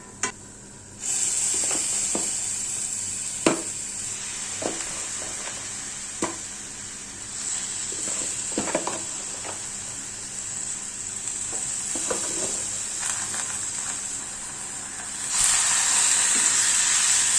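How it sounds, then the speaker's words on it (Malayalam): Mutton being stirred and fried with roasted spice powders for a Kerala-style curry: a steady hissing sizzle with irregular spoon knocks and scrapes, close by, swelling louder near the end, with no voices. "മട്ടൻ അങ്ങോട്ട് ചേർത്ത് കൊടുത്തിട്ട് നല്ലപോലെ ഇളക്കിയുണ്ട് മിക്സ് ചെയ്ത് കൊടുക്കാം"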